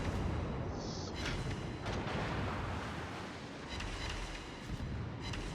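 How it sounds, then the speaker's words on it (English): A battleship gun volley fired in the naval video game World of Warships, heard as a dense, distant rumbling roar of heavy guns with a few muffled booms rolling beneath the low, steady battle ambience. "I dodged his first volley."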